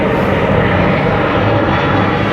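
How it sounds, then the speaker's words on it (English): An airplane flies overhead with a loud, steady engine drone that fills the whole stretch evenly, heard alone without speech. "Airplanes are super annoying."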